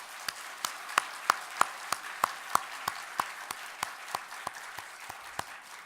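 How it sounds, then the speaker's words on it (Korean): The church congregation at Gil Church in Bucheon claps in steady unison, about three sharp beats a second, crisp and evenly paced over a quiet room hiss. "하나님께 영광의 박수를 올려드리겠습니다"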